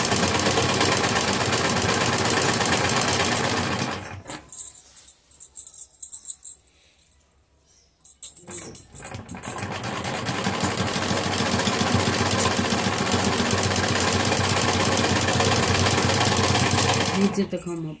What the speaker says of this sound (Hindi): किनारी पर इस तरह से दोनों हिस्सों पर इस सिलाई लगाएंगे।